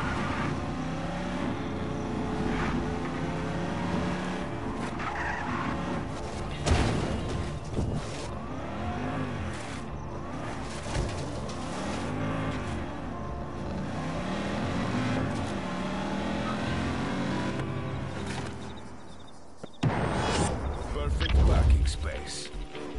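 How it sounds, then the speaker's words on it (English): A car skids and revs through stunt driving in a video game, its engine droning and whining in sweeping pitch changes under almost constant talk, ending with a louder rough burst. "Do a little, you know, stunt driving."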